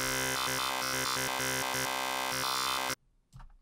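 Bright buzzy Xfer Serum sample-and-hold synth lead with a randomly jumping wavetable position, choppy stepped notes for about three seconds, then a short quieter tail.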